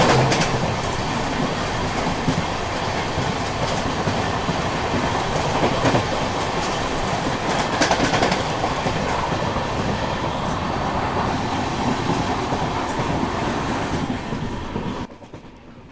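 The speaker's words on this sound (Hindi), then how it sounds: "अपनी ट्रेन पहुंच रही है मानगांव स्टेशन, स्किप करने वाले हैं" Sampark Kranti Express passenger train running on the Konkan rail route, heard as a steady loud rumble and rattle of carriages with clickety-clack wheel beats, continuous until it drops off sharply at the very end.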